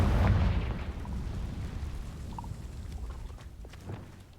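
A Confringo fire spell in Hogwarts Legacy bursts with a loud, deep boom that trails off into a rumbling, crackling decay over a few seconds, with no talk.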